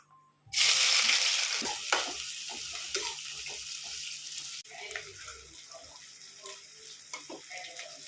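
Onions dropped into a pan of hot oil with mustard seeds, bursting into a loud sudden sizzle that settles into steady frying crackle, with stirring clatter and a few sharp pops.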